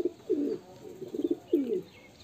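Two pigeons, a Muscovy-type and a Jag Mada, give soft, low cooing calls in three short rumbling bursts, close and fairly quiet, with no voices over them.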